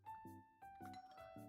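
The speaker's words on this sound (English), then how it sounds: "It doesn't take long before the doorbell rings" A two-tone ding-dong doorbell chimes in a home, repeating several times in quick succession, soft and clear with ringing tones that sustain between strikes.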